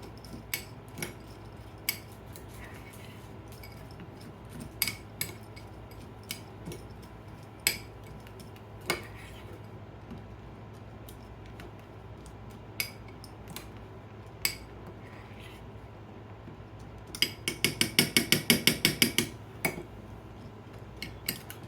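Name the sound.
mixing gravy into dog kibble in a bowl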